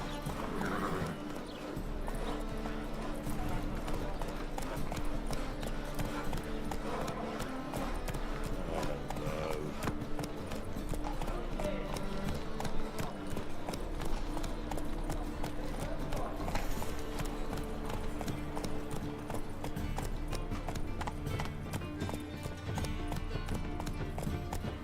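Horse hooves clip-clop in a steady running rhythm the whole way through, with a brief whinny, set against dense continuous background sound and occasional talk.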